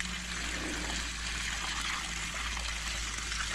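Water runs steadily over garden plants, rinsing soil from their roots: a continuous close trickle and gush with no pauses, fairly quiet throughout.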